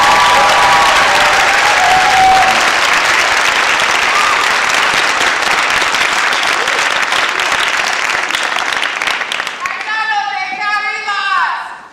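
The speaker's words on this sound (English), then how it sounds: "I ask our graduates to give their family and friends a warm round of applause." Graduates at the Brooklyn Law School commencement ceremony give loud, sustained applause that fills a large hall, then taper off as a voice begins speaking near the end.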